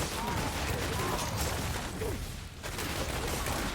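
A Demon Hunter in Diablo Immortal fires at a crowd of enemies, producing a dense, loud stream of rapid shots and impact crackles with a brief dip midway, while someone talks over it.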